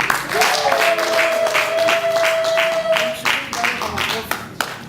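A congregation at a three-day women's church camp claps rhythmically in praise of Jesus, a steady, loud beat of many hands that holds for several seconds under a sustained voice.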